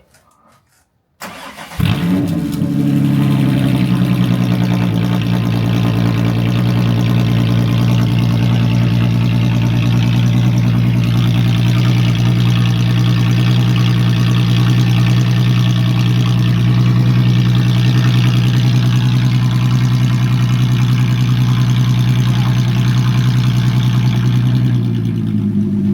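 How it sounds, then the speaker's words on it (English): A manual all-wheel-drive 3.6L MK6 car engine starts, then holds a loud, steady drone in first gear while pulling through snow, close and continuous with no talk. "just stick it in first and see if all the wheels spin"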